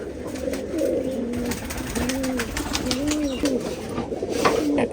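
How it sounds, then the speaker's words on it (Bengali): Caged pigeons coo close by in a loose series of rolling, repeated calls over a steady background hiss. "আর যে দেখতে পাচ্ছেন সামনে অনেক সুন্দর কবুতর এই যে খাঁচার মধ্যে"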